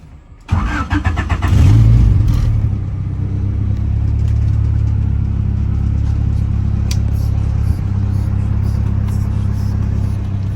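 Turbocharged Honda F20B engine with a GTX3582R turbo, on a street tune, revs up sharply after a brief quiet start, then holds a loud, steady drone with a faint turbo whine for the rest of the clip; no one speaks.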